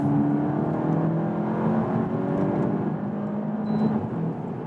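A VW Golf GTI TCR, the fastest street-legal Golf GTI, pulls hard in third gear with a loud, continuous engine drone rising steadily in pitch, heard from inside the car with no talking.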